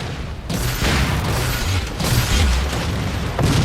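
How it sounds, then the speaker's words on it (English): Rocket launcher fire in the video game Halo 4: heavy booming blasts with a loud sustained roar and repeated deep thuds across the span, no talking. "The rocket launcher."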